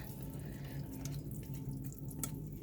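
A thin stream of liquid pours steadily and continuously into a warm skillet, with faint splashing over a low hum, close and fairly quiet.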